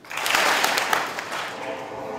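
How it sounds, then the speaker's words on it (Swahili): An audience at a Swahili arts performance at MP Shah Chania secondary school claps, a dense burst of applause that swells and then holds steady, with voices mixed in. "tuwapige makofi kweli."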